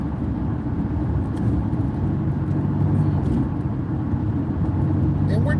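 A car cruising on an expressway gives a steady low road and engine rumble from inside the cabin, even and continuous with no pauses.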